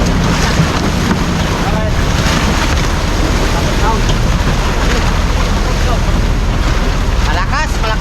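Strong wind roars over a boat at sea, a constant loud buffeting on the microphone mixed with wave wash, while a voice briefly speaks.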